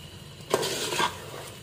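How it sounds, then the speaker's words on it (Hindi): Mutton and coriander leaves fry in a pot as a spoon stirs them, a short sizzling scrape with a couple of clinks against the metal. "तो डाल देते हैं धनिया भी अभी, अभी गोश्त के साथ ही भुनाई हो जाएगी इसकी धनिया की भी"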